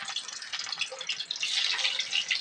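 Shrimp rolls wrapped in pumpkin leaves slipped one by one into hot oil, giving a steady, bright sizzle and crackle that swells slightly midway, with no talk.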